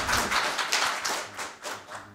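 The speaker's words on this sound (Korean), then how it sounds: "큰 박수 부탁드립니다" Scattered applause from a small audience at a policy forum on rehabilitation for people with spinal cord injuries, a brief run of uneven, close claps with no talking.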